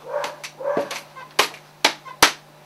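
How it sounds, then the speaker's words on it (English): A dog barks upstairs, sounding slightly muffled and distant. It gives a series of five or six sharp barks with short whines between them, and a low electrical hum runs underneath. "You can hear my dog barking upstairs."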